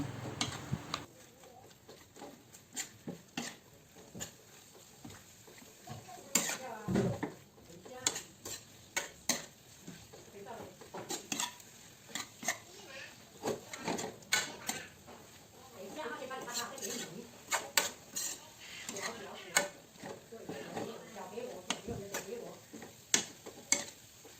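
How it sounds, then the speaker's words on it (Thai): Minced pork being stir-fried in a pan for a tomato-sauce spaghetti, with a faint sizzle and frequent scraping, clinking strokes of a utensil against the pan, while someone talks over the cooking. "พอผัดเริ่มสุกแล้วเราก็ใส่หมูสับลงไปนะคะ ผัด ผัด ผัดจนหมูเริ่มสุกนะคะ"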